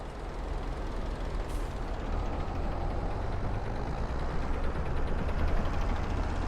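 Steady, fairly loud rumble of a mowing tractor engine with the gruff character of an old JCB, running continuously while on the move with a faint high tick near the start.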